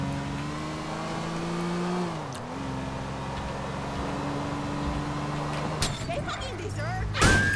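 In GTA IV, a stolen car's engine drones steadily with a shifting pitch, followed near the end by brief clunks and rattles, with the game's background sounds continuing.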